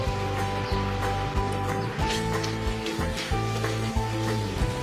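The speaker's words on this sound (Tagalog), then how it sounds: "Simmer lang natin hanggang sa maging dark brown na yung kulay ng latik." Steady sizzling and bubbling of latik coconut caramel simmering in a pan, with repeated stirring scrapes and a constant close, moderately loud frying hiss.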